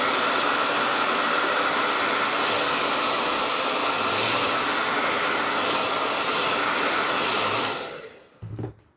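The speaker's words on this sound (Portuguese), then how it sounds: "Eu vou secar com o secador no médio, porque eu tô com o stencil posicionado." Hair dryer blowing steadily on medium heat over freshly painted pine board with a stencil in place, a loud continuous airy roar that cuts off near the end.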